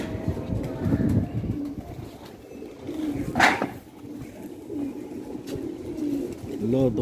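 Pigeons cooing on a rooftop, repeated soft low coos close by, with someone talking over them and a brief louder noise midway.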